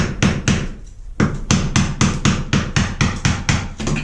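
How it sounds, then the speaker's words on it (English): Blunt chisel struck with a hammer to knock tiles off a bathroom wall, giving a rapid, even series of loud, close, hard knocks with one brief pause early on. "getting tiles off. Pretty basic really. I use a blunt chisel."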